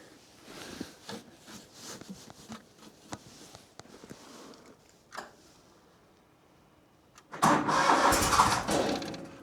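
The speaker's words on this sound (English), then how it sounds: "Let's go ahead and fire the machine up and start making some wood." A firewood processor's engine cranks and fires in the cold, with a string of sputtering attempts and scattered clatter before it catches into a loud, steady roar near the end.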